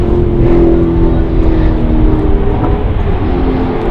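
Australian TransAm race cars, including 5-litre class entries, roaring past at close range, a loud continuous engine drone with shifting pitch as the pack races by.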